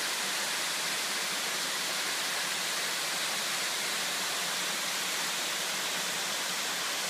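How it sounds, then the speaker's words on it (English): Washboard Falls, the upper cascade above Tiffany Falls on the escarpment at Ancaster, Ontario, roaring as a steady, dense rush of falling water that stays loud and unchanging throughout. "Here's the waterfall"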